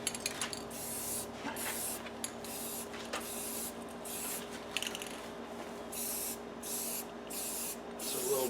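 An aerosol or spray gun hisses in repeated bursts with short gaps as paint is coated onto a restored, previously corroded aluminum car wheel outdoors in a light breeze, the spray close and steady.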